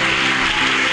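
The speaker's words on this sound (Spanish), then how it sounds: "Denle un aplauso a Él" A church congregation claps together in a dense, steady wash of applause that holds at an even level throughout the brief moment.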